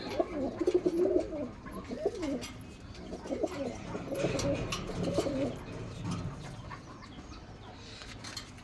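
A pigeon in a loft gives several low, throaty coos in a cluster, close by and moderately soft, with faint rustling and background noise around them.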